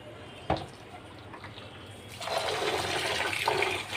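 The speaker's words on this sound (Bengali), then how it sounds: "চালটা ভালোভাবে ধুয়ে নিচ্ছি" Rice is washed by hand in water for white pulao: a sharp knock comes first, then steady swishing and sloshing of grains and water builds up and continues close by.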